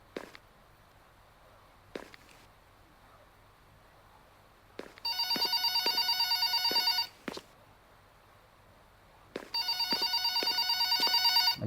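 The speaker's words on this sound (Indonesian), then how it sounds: "Ada telepon lagi." A telephone rings in the Pikabuu Suster Jaga Malam horror game: two long bursts of bright electronic trilling, each lasting about two seconds, separated by quiet, with soft footsteps thudding before and between the rings.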